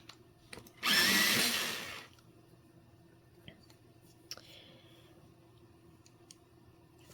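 An electric sharpener grinds a colored pencil in one loud whirring burst of about a second, followed by faint clicks and light handling in a quiet room.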